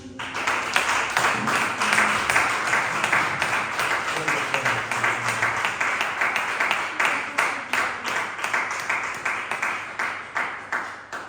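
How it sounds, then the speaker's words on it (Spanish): Congregation in a church giving a long round of applause, with dense clapping that gradually settles into a more rhythmic, unified beat toward the end; no speech over it. "Dale un fuerte aplauso a Cristo Jesús."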